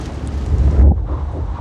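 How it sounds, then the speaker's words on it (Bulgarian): A short rush of wind blowing across the microphone, a low buffeting rumble that swells and then eases. "и да слушам вятъра"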